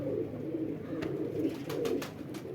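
A homing pigeon, a yellow-eyed breeder bird, coos in soft low repeated phrases close by, with a few faint higher chirps over a steady murmur.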